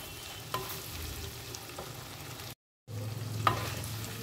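Onion, curry leaves, tomato and green chili frying and being stirred for a Malabar egg curry, a soft steady sizzle with occasional scrapes of the spoon, quiet and close, cut by a short silent gap.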